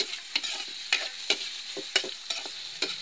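Tomatoes stirred in a hot frying pan for a simple home-cooked dish: repeated sharp scraping strokes over a steady sizzle, close and fairly loud, with no talking.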